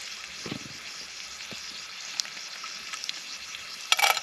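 Cloves fry in hot oil in a pan during stealth camp cooking, a faint, steady sizzle close by with a few soft clinks and a brief clatter near the end.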